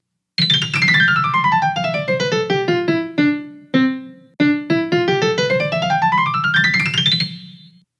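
Piano notes trace the parabola y equals x squared over ten: a rapid run of single notes sliding down in pitch, slowing and pausing at the bottom, then climbing back up symmetrically, loud and close.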